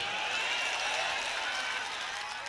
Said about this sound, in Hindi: अरे ताली वाली बजा दे भाई।